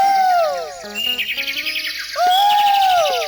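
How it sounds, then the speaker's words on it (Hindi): Several birds, including a koel, sing in a bright chorus of repeated tuneful calls and chirps, loud and close, continuing without pause and with no talking. "चिड़िया बोलने लगी"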